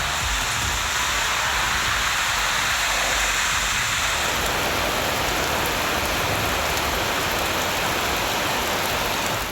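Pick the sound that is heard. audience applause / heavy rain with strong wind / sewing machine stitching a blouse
heavy rain with strong wind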